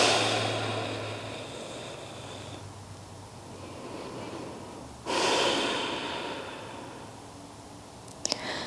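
Deep breathing during a yoga supine twist, slow audible inhales and exhales through the nose, one long breath fading out, then a sharper, louder breath around the middle, close to the microphone.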